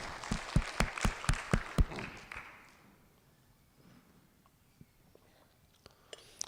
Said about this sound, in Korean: 우리 받으신 주님께 감사의 박수.